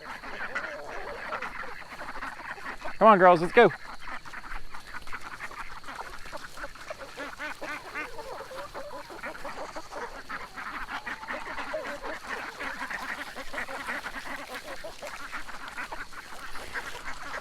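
Ducks on a farm quack and honk in a brief noisy flurry early on, then a flock murmurs softly in the background while a person speaks briefly.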